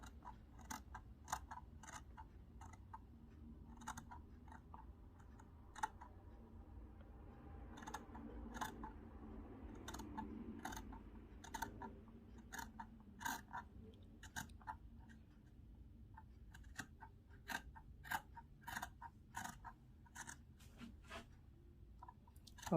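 Scissors snip through dress fabric in a quick run of crisp, irregular cuts, close and fairly quiet, with soft handling noise between the snips.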